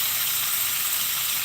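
Honey ginger lamb chops hitting a hot pan as cooking begins, a steady bright sizzle and hiss of fat and steam, close and continuous with no talking.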